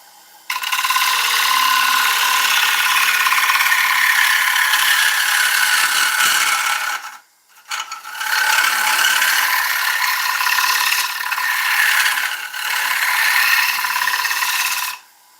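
Oak spinning on a wood lathe while a gouge makes push and shear cuts: a loud, steady rasping whir that stops briefly mid-way, then resumes with slowly shifting tone before falling off at the end.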